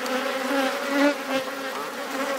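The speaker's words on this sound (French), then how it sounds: "On aperçoit sur la droite de la ruche pas mal d'abeilles qui rentrent avec les plots de pollen" Honeybees buzz steadily around a hive at an alpine apiary in the Lautaret area, many bees returning with pollen, a dense layered drone of overlapping wingbeats at moderate distance with no talk.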